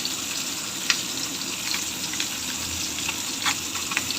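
Fish fries in hot oil with a steady close sizzle and scattered sharp crackles and pops, without any voices.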